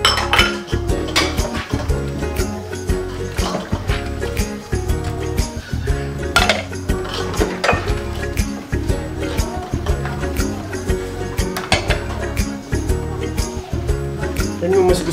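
Dishes and ingredient containers being washed at a kitchen sink while a sauté cooks, with steady clinks and clatters of cookware and utensils under a continuous dense background of water and kitchen noise.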